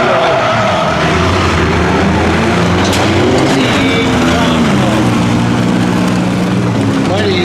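A truck engine at a ramp-racing demolition event revs hard and continuously as the truck turns around, a loud, gritty drone with crowd noise and an announcer talking over it.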